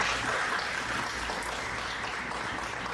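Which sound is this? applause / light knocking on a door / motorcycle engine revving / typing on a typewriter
applause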